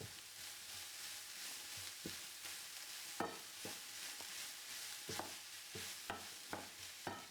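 A spoon stirs garlic through a lamb pasta mixture in a pan, giving scraping strokes and soft clunks at an irregular pace over a steady low sizzle, close and fairly quiet with no talking.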